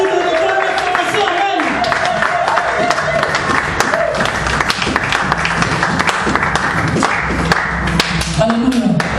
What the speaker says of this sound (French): Donne les acclamations.